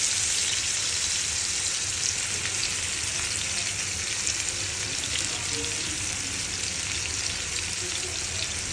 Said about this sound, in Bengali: বেশি ভাজবো না, আমরা 3 জন, তো বেশি একটু কমই ভাজবো